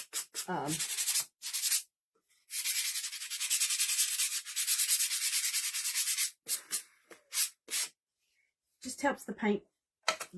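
Steady scratchy sanding of small wooden spindle pumpkin craft pieces before painting, a long continuous stretch broken by short strokes and brief pauses, close by, with a voice at the start and end.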